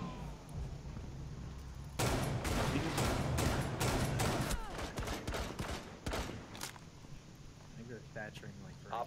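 Rapid bursts of gunfire in the video game Rainbow Six Siege crackle loudly in close succession for several seconds, then thin out to sparse shots.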